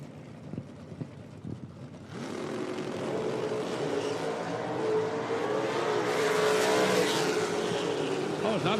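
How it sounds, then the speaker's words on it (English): An old Camaro makes a drag racing time trial pass at an IHRA Outlaw Nitro Series event, its engine surging from quiet into a loud, sustained roar that builds and holds as it runs down the track. "Dave Deffrin goes 601. 111 miles an hour for the old Camaro down there."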